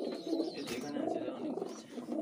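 Young pigeons in a home loft give low, murmuring coos, close and continuous, blended with a soft background rumble.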